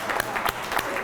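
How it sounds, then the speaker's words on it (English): Audience applause at an outdoor flag-raising event, a steady wash of many hands clapping throughout a very short moment. "Let's hear it by a round of applause."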